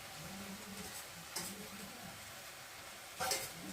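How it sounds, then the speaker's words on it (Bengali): Kalmi greens with fried prawns sizzle steadily in a pan while being turned over, with a couple of brief louder scrapes of the spatula standing out from the constant frying hiss. "ভালো করে শাকটাকে নেড়ে দেবো"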